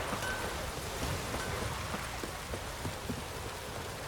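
Steady in-game rainfall from The Witcher 3: Wild Hunt, a dense, even hiss of pouring rain with scattered sharper drop patters, continuous and fairly soft throughout, with no voices.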